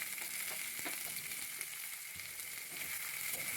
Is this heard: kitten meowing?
no